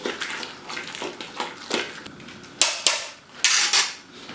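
A spoon stirs Motueka hops into hot wort in a Grainfather brewing kettle, producing irregular clinks and knocks against the metal with swishing liquid between them.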